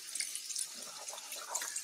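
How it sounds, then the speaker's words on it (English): Tap water running over drained canned chickpeas being rinsed in a kitchen sink, a soft continuous hiss of flow with light splashing, close and fairly quiet, no voices. "drain them, and then rinse them off in water."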